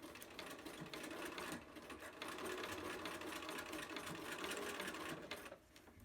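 A sewing machine runs steadily, zigzag-stitching a fabric face mask, with a dense, even mechanical chatter at close range, briefly easing near the middle and stopping just before the end.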